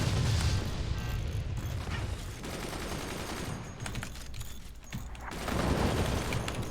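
In the Forts strategy game, sniper and gun batteries fire in a continuous, crowded barrage of shots and mechanical rattling. It swells near the end and carries no speech.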